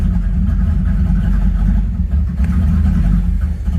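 A repaired car engine runs steadily at close range, a loud continuous low rumble with slight shifts in level as it settles.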